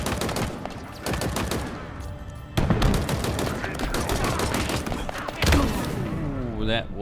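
In the video game Halo Infinite, a weapon empties a full magazine in dense rapid gunfire, loud continuous bursts broken by brief pauses, with heavier impacts and a mechanical tail near the end.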